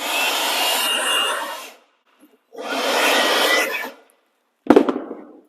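Two long, close blasts of air blow metal shavings left by self-tapping screws out of a pocket door track, with silent gaps between them, then a brief sharp clatter at the end.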